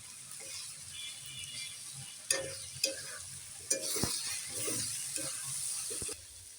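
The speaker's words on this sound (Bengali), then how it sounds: "ডিমটা একটু শক্ত হলে লাড়া দিবে আমরা আমরা এখন লাড়া দিচ্ছে" Egg and snake gourd sizzle softly in a pan while a spatula stirs, scraping and knocking against the metal in a few distinct close taps.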